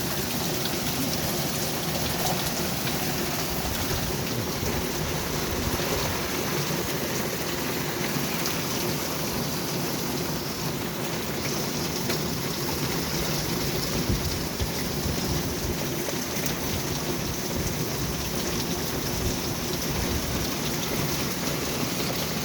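Steady rain with thunder, heard from a bedroom window fitted with old tin window covers, makes a constant dense hiss and patter with low rumbling underneath, unbroken throughout with no voices.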